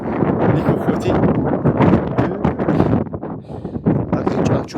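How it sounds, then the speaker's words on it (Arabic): Wind gusting across a microphone at night in a cemetery, a steady rough rumble that swells and dips throughout, with a voice speaking briefly over it. "ايوا راه كاين الريح مورايا"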